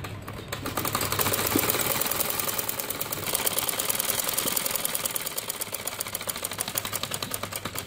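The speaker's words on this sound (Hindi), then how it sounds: "इस तरीके से आपने इनको साथ जोड़कर सिलाई लगानी है।" A sewing machine stitches pieces of a salwar together in a fast, even run of mechanical clicks with a low motor hum, close and continuous throughout, with no voices.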